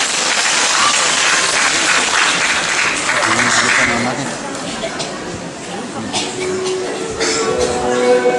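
A theatre audience applauds at a Yue opera concert in Shengzhou, loud and dense clapping that eases slightly midway and then swells again, with faint murmuring beneath.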